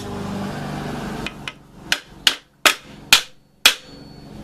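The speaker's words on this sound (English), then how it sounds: "Now we need to do a little love tap with a hammer." A hammer strikes a Comrod telescoping mast six times in a slow, uneven series, each a sharp metallic tap rising louder after a brief faint mechanical hum.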